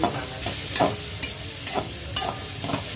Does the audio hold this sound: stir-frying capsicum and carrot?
yes